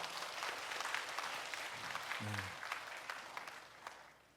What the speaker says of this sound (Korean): 큰 박수로 격려하겠습니다